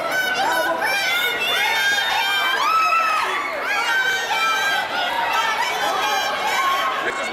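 A dense crowd of people gathered at a venue, a loud continuous wash of overlapping chatter, shouts and excited voices filling the whole stretch with no pause.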